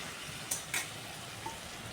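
Fried potatoes being mixed with spices in a pan, a steady close sizzle with two quick stirring scrapes, no voices.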